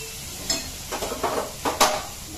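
Tomatoes and salt being stirred into a gravy in a pan for chole, with soft scraping stirs and spoon knocks over a faint sizzle, a few distinct strokes close by.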